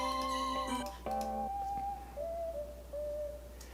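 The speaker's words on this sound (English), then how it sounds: "the song whistle patch going on in the back, which was just a random little line" A synth whistle patch plays a whimsical melodic line in a pop song, clear sustained whistle tones stepping through a short tune alone in the mix.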